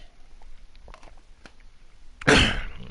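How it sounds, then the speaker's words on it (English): A man clears his throat once in a sharp, loud rasp after a few quiet small sounds, close to the microphone. "let me clear my throat"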